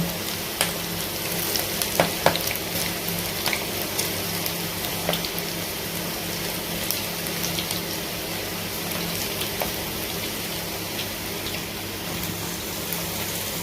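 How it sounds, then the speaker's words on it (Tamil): Okra and gram flour fritters fry in hot oil with a steady, dense crackling sizzle that runs throughout, scattered with brief sharper pops and spits, fairly close and with no voices. "எண்ணெய் சூடாகிடுச்சு வீட்டில் போட்டுக்கலாம் ஊற்றி ஊற்றி போட்டுக்கோங்க"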